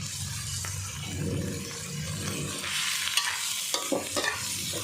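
Duck larb is stir-fried in a hot pan with a continuous close sizzle, spatula strokes scraping and stirring throughout, and a few sharper clinks near the end, with no voices.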